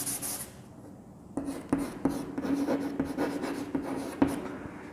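Pen writing by hand on paper for a class 8 science assignment: a steady run of close scratchy strokes with short sharp taps between them, quiet and unaccompanied.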